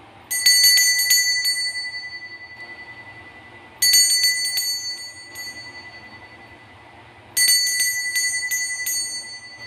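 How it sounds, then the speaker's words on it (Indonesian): A bright bell rings in three separate bursts of rapid repeated strikes, each fading out before the next begins, clear and close. "Kita akan lanjutkan dengan ditandai lonceng berbunyi."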